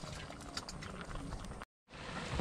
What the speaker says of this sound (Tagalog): Yan po ilalagyan ng pangalawang gata para malabog.